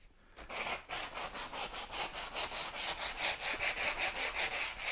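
Smoothing paste being rubbed by hand onto a cast-in-place surface, a rhythmic back-and-forth scraping rasp repeating about four times a second, close and steady with no voices.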